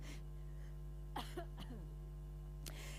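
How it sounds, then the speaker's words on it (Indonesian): A few short, soft coughs in quick succession over a steady low electrical hum, with no talking. "Sebentar ya, batuk dulu."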